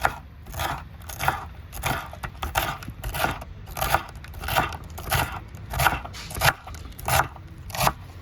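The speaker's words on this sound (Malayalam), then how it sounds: "പിന്നെ ചെറുതായിട്ട് നമുക്ക് അരിഞ്ഞു കൊടുക്കാം" Palak spinach leaves are chopped into small pieces with a knife on a board, a run of crisp, regular cuts at a brisk, fairly even rhythm, close and clear with no talking.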